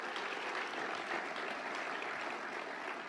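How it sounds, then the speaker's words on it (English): A crowd applauds during a Little Rock mayor's State of the City address, a dense, steady wash of many hands clapping at an even level throughout, with no speech over it. "Let's give them a round of applause."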